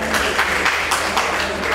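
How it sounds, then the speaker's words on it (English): Audience applause at a live stand-up comedy show, a dense crowd clapping steadily with faint bursts of cheering, loud and continuous for the whole moment with no speech over it. "Clap for yourself if you're Masoga."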